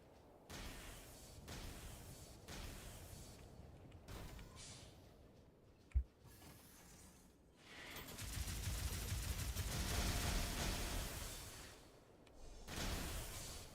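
A torpedo spider boss in the game Dolls Nest fires salvos, heard as repeated bursts of rapid shots with a sharp single crack midway and a long, swelling rush of fire afterward, with no talking.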